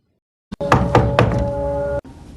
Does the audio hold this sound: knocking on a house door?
yes